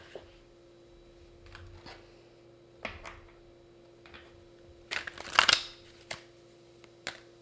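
Tarot reading cards are shuffled in short, soft riffling bursts, with scattered light taps and a louder flurry of card handling near the middle, against a quiet background hum.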